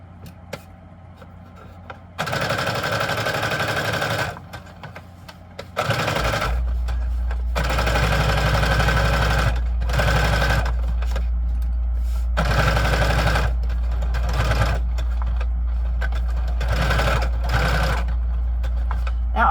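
Sewing machine stitching fabric for a handmade junk journal, running in several bursts separated by short pauses, with a steady low hum present throughout and no talking.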